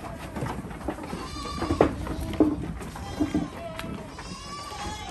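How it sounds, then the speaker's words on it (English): Boer and Kalahari Red goats on a ranch bleating several times at close range, short wavering calls over general farmyard background noise. "These are Boa and Kalahari red goats."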